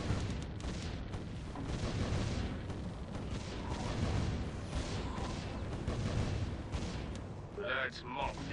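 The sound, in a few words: cannon towers firing in a video game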